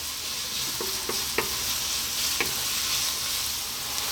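Chopped onions and garlic fry over medium heat in a pan, a steady soft sizzle broken by a few light scrapes and clinks as they are stirred, close by with no talking.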